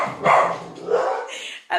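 Dogs bark and yip in a home, overlapping in a continuous stretch of loud, close barking mixed with voices.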